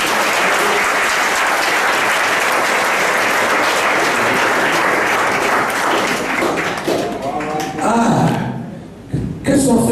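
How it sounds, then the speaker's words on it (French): A church congregation applauds loudly and steadily for several seconds, a dense crowd of clapping hands that thins toward the end as voices emerge. "Acclamez pour lui."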